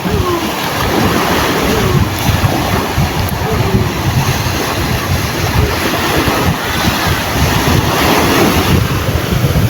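Surf rolls continuously onto a windy beach, a loud, close wash of breaking waves with gusting wind noise on the microphone throughout.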